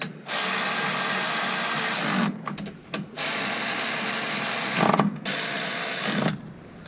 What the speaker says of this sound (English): Now we're going to install the hardware. Start tightening it down all around.